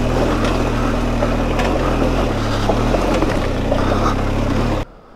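A motorcycle accelerating uphill on an Alpine pass road, its engine droning steadily under heavy wind rush before cutting off abruptly.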